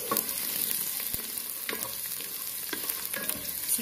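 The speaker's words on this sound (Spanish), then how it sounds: "ya se está hirviendo el arroz, ya se está resecando el agua" Rice cooking in a pot for mole with chicken, a steady loud sizzle and bubbling as the water cooks off, continuous and close with occasional small crackles, no voices.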